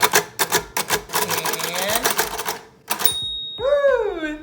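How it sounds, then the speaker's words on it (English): Rapid mechanical key strikes on a Braille typewriter clack in a quick irregular series, followed by a sliding carriage sound and a brief bell-like tone. "our little Braille typewriter here"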